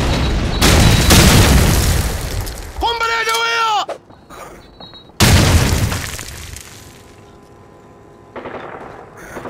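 A frag grenade blast in a multiplayer shooter game on the District map: heavy booming explosions and crashes, loud and close, mixed with game effects and players talking over them.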